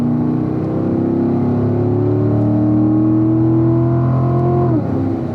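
A car engine pulls hard out of a corner, loud and close with a steady rising drone that shifts pitch briefly near the end.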